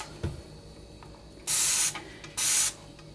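Dawn Power Wash dish spray misted onto a spoon and spatula in two separate hissing bursts, each about half a second long, with quiet handling sounds between.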